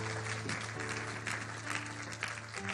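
A church congregation applauds continuously in worship, a steady wash of many hands clapping at moderate distance, with faint voices mixed in beneath.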